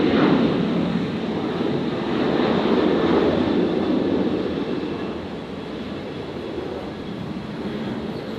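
Virgin flight 1404, a passenger jet at Brisbane airport, gives off a steady broadband jet roar that stays loud and constant, easing slightly in the later seconds.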